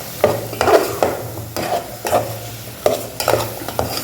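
Cabbage and mixed vegetables for a Tamil poriyal sizzling in a pan with turmeric, stirred in repeated scraping strokes about every half second over a constant close frying hiss.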